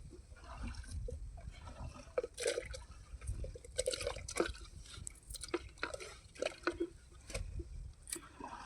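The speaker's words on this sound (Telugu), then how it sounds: "పుట్టమెట్టు కూడా నీటిలో కలుపుకోవడం జరుగుతుంది" Anthill soil is stirred into water for a liquid jeevamrutham farm preparation, giving wet squishing, slopping and dripping sounds in irregular close bursts.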